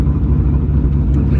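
Wide-body Corvette Z06 pulling away, a steady deep low engine rumble held close and loud throughout with no voices.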